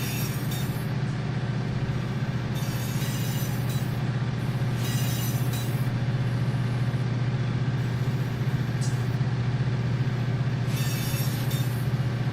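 A diesel electric locomotive in the Run 8 train simulator, hauling oil tank cars: a steady deep engine drone with rolling rail noise and periodic bursts of hiss and clatter, continuous and loud throughout.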